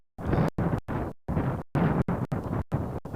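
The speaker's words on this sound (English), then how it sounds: "It's windy for both teams." Gusty wind at an outdoor softball game buffets the microphone in a series of loud, broadband bursts separated by brief gaps, with no voices.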